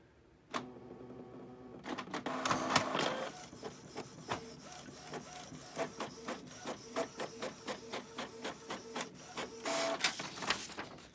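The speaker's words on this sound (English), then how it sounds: "Data has been sent to check if the printer is operating correctly start printing." A Canon printer runs a test page, whirring and clattering with a steady train of rhythmic mechanical clicks and feed pulses, close and fairly loud, with no talk over it.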